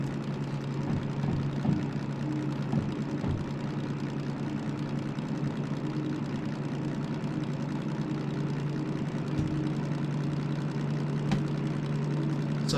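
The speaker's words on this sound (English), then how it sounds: "it's starting to go up in revs here" A DM3 diesel locomotive in the Derail Valley train simulator game hauls a heavy freight load, its engine giving a steady, dense low drone that climbs only slightly in revs, with no talking over it.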